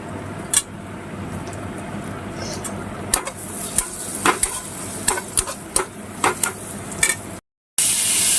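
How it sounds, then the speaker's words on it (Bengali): Ingredients for a Bengali flattened-rice pulao with pre-fried nuts are stirred in a pan, giving a steady soft sizzle with repeated sharp scrapes and clinks of the spatula against the pan, close and alone. "সব কিছু দিয়ে দু থেকে তিন মিনিট নাড়াচাড়া করে নেব"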